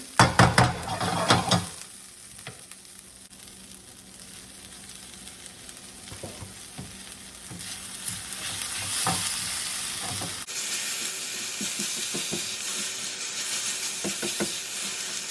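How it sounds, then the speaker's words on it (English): Caramelizing vegetables for tomato bisque are stirred in a pot: a spoon clatters and scrapes over a steady sizzle and frying hiss that grows louder toward the end. "every few minutes we're stirring the soup"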